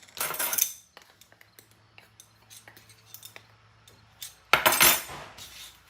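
Garlic powder spice jar lid coming off, with a loud clinking clatter at the start, a scatter of small light clicks and taps, then another sharp burst of rattling near the end, close-up and without talk.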